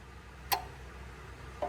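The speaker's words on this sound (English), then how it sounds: "You're going to listen for clicks near the AC compressor clutch over here." A Nissan's AC compressor clutch clicks during an electrical self test, two sharp, fairly close clicks about a second apart against a quiet engine-bay background.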